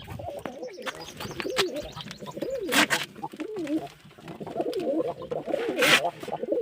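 Pigeons coo repeatedly in a loft with nests of eggs and chicks, soft rolling coos overlapping at close range with occasional wing flutters and chirps.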